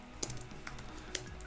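Typing on an Apple computer keyboard, a few soft scattered key clicks with two sharper taps standing out, faint and close against low background noise.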